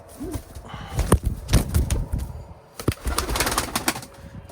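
Tumbler pigeons on a rooftop, with wings flapping in several sharp bursts and soft cooing, close by, with scattered bumps and rustling around them.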